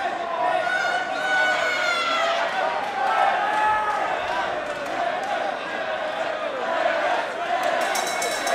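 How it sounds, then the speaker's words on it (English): A packed crowd at a Victory Fights event, round two of Bill Mogford vs Louis Smithson, chanting and screaming in a continuous loud roar, with a commentator talking over it. "The crowd, all of them are out of their seats, chanting, screaming."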